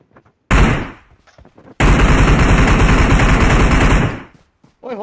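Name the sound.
gunfire in the video game PUBG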